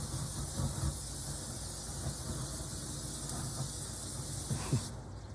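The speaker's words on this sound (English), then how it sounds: "grab your cooking spray and just spray the grill where you're going to put the chicken" Cooking spray hisses steadily onto a grill in one continuous close spray with no pauses and no voices.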